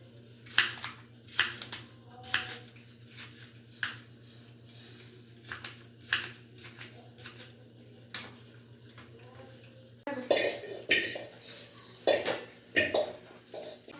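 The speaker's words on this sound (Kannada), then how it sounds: "ಸಾಂಬಾರ್ ಸೌತೆಕಾಯಿ ಕಟ್ ಮಾಡ್ತಾ ಇದ್ದೀನಿ" Knife chopping cucumber on a board in a home kitchen while preparing sambar, a steady run of sharp close taps and clicks, with a brief burst of louder utensil clatter near the end.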